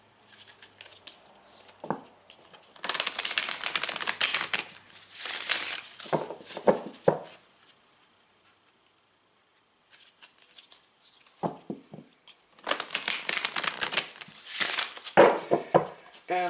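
Tarot cards being shuffled by hand in bursts of crisp riffling and papery flutter, close and moderately loud, separated by quiet pauses and small taps, with no voice over it.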